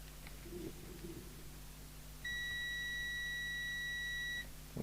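A steady electronic tone from a multimeter on continuity test sounds for about two seconds during CB radio repair, with faint handling noise and low hum before it.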